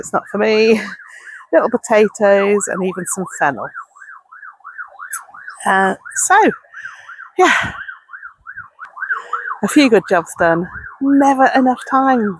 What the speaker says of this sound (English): Sorry about the sirens in the background